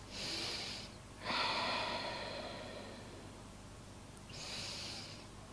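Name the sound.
deep breathing during yoga chest stretch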